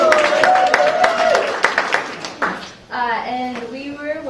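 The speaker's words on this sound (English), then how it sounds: "Round of applause, Rachel!" A small group claps for a student introduced in a campus talk, scattered handclaps fading over about two seconds, with a voice speaking before and after.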